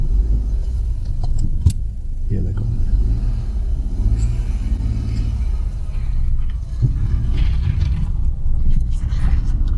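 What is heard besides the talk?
stuck car driven forward out in first gear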